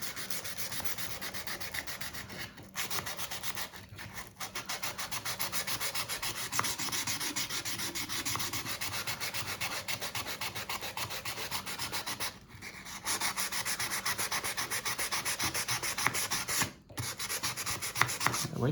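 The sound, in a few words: hand sanding with sandpaper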